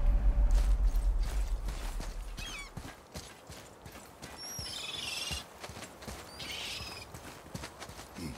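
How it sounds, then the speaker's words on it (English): In the God of War video game, a heavy axle mechanism is raised: a deep rumble fades out, followed by wooden creaks, clunks and thin squealing scrapes from the moving parts, with quiet ambience around them. "Start by lifting that axle."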